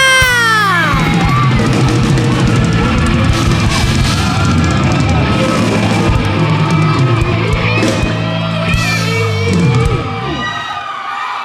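A studio audience at a Cambodian singing competition results show cheers, yells and shrieks loudly for a professional singer, a dense, excited roar that tapers off near the end.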